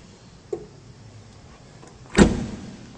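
A 2007 Jeep Wrangler Unlimited Sahara hard top has its rear lift glass shut, a small click early on, then one solid thump with a short rattle, close and clear in a quiet setting.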